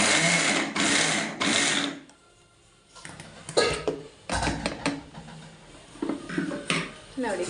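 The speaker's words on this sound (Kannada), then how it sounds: "ಮಿಕ್ಸಿ ಮಾಡ್ತೀನಿ" Mixer grinder grinding coconut for coconut barfi, running in short loud whirring bursts with pauses, then rattling and clinking as a person talks between runs.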